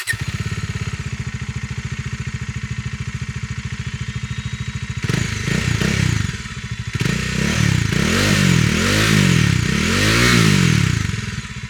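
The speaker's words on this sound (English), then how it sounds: "we have a 2-barrel exhaust, which should give you a more macho stock sound" A Kawasaki Bajaj Dominar 400 with a stock two-barrel exhaust idles with a steady, loud, close thump for about five seconds, then revs repeatedly in rising and falling surges.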